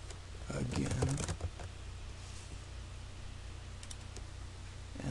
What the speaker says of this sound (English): we're going to go ahead and type in hello world again